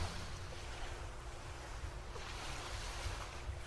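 Steady broadband rush of ocean surf with low rumbling wind noise, continuous and fairly faint, no voices.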